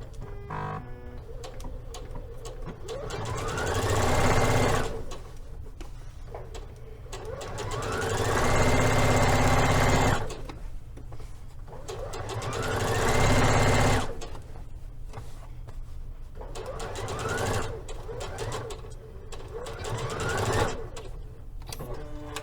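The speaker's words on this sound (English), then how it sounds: "So I'm ready to understitch my pockets" Sewing machine understitching pocket seams on a Liberty London palazzo suit, several separate close whirring runs with brief pauses and fabric handling between them.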